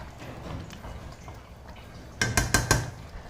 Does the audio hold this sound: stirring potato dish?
yes